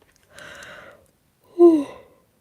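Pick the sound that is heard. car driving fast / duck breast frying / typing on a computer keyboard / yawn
yawn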